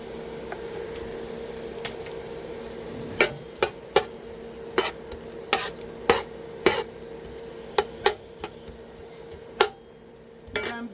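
Garlic and onion sautéing in a pan for chicken pancit bihon, a low steady sizzle under repeated sharp spatula clanks against the pan at an irregular rhythm.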